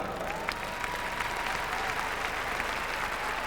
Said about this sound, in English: So Ronnie Irving and Brenda Banbury move to the centre of the ring, to the applause of the crowd.